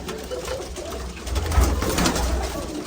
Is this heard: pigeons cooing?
yes